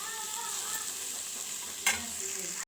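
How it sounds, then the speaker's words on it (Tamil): Vegetables for veg fried rice, sprinkled with pepper powder, sizzle steadily in a frying pan while being stirred, with one sharper scrape near the end. "மிளகு பொடி போட்டு நல்லா கிளறி விடுவோம்"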